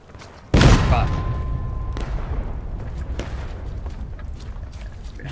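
Artillery cannon fire in the Civil War game War of Rights: one loud, close boom with a long rumbling tail, followed by fainter distant reports, with voices talking over it.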